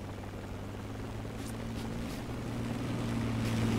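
A video game military helicopter hovers and drones steadily overhead, a low continuous rotor hum with a faint rising loudness, heard alone without talk.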